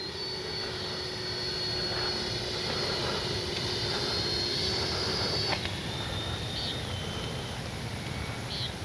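A Freewing Zeus 6S 90mm RC jet with electric ducted fan flies overhead, its steady high-pitched whine holding over constant outdoor wind noise before the tone shifts and fades slightly.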